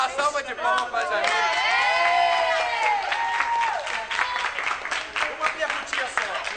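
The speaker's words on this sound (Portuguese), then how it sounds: "Uma salva de palmas pra Jamile." A theatre audience at a Godspell performance bursts into loud applause with cheers and whoops for a performer, a dense sustained wash of clapping mixed with crowd voices and chatter throughout.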